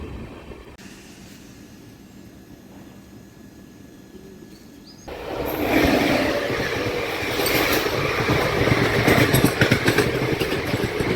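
At Devanur, a small railway station, a quiet stretch of low background hum gives way suddenly to the loud, broadband roar and rattle of a train, which builds and stays close.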